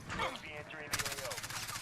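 Rapid automatic gunfire from an MP7 submachine gun in a Modern Warfare multiplayer match, starting partway through as a loud, dense burst of shots over game noise, with a voice talking underneath.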